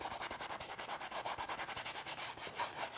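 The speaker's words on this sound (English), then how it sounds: "just scrub it right in" A paintbrush scrubs paint onto canvas for a winter mountain landscape, giving a steady, close, rhythmic rasping with quick repeated strokes and no voices.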